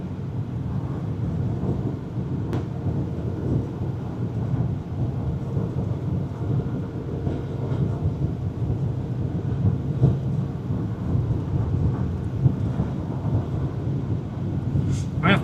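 An Oklahoma supercell thunderstorm rolls with low, continuous thunder under steady rain and some wind buffeting, while a person talks over the rumble.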